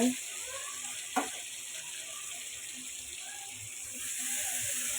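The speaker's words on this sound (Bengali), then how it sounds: "এখানে মাছ রান্না হচ্ছে আমাদের। সর্ষে বাটা দিয়ে মাছ হচ্ছে।" Fish cooking in mustard paste in a pan gives a soft, steady sizzle close by, with a brief clatter near the start and the bubbling growing slightly louder toward the end.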